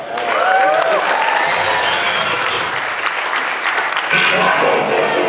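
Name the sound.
audience applause for Grimlock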